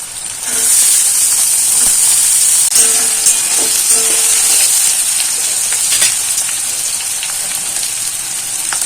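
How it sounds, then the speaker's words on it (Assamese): Sliced beans fry in a hot pan for veg Maggi masala, giving a loud, steady sizzling hiss that holds almost unbroken from start to finish with no talking. "অলপমান ফ্ৰাই কৰি ল'ম মই এতিয়া মই দি দিছোঁ বিনছখিনি"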